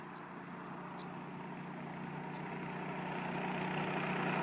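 A Baja mini bike fitted with a torque converter approaches and rides by, its small engine a steady drone that grows gradually louder as it comes nearer, with no talk.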